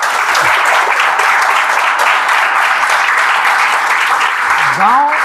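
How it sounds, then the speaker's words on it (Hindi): Dense, steady applause from a large crowd, sustained throughout with a brief vocal sound near the end. "ताली बजा दीजिए भाई।"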